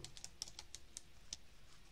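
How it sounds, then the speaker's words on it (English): Keys clatter on a computer keyboard in short bursts of quiet, close taps with small gaps, a few sharper clicks standing out, no talking. "I'm just typing sorting."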